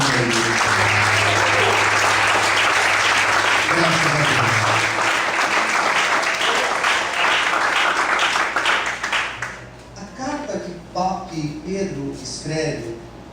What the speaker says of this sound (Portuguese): Desocupe a sua mão e aplauda ao Senhor por ele.